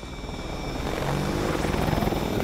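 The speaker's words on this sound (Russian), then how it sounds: "Вертолет." Helicopter in the video game Call of Duty: Advanced Warfare, a loud, steady rotor thrum and engine whine that holds close and constant for a couple of seconds.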